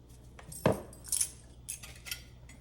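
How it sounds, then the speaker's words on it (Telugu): A small iron kadai is set down on a kitchen stove with one sharp metallic clunk, followed by a few lighter clinks and scrapes in a quiet room. "ఇదో చిన్న ఇనుప మూకుడు ఉంది, అది పెట్టాను"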